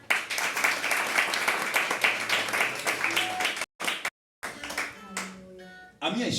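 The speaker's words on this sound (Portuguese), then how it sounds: "Aplauda o Senhor." A church congregation claps steadily and rhythmically for several seconds, then the clapping breaks off and a voice speaks over fading sound.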